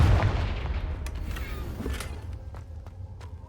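A Confringo fire-blast spell in Hogwarts Legacy bursts loud and close at the start, then trails into a rumbling tail with scattered sharp clicks and impacts over a steady low game ambience.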